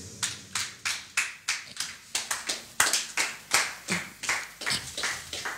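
A church congregation claps together in a steady rhythm, with sharp, loud, closely spaced hand claps running throughout and nobody speaking.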